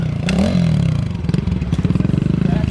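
A pit bike engine revs and then bogs down, its note rising briefly before falling into an uneven, sputtering, pulsing idle, close by, with faint voices in the background.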